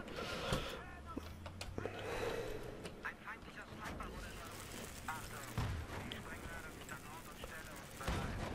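Tanks fire in Battlefield 3 multiplayer, with booming cannon shots and gunfire rumbling in the background while someone talks over them.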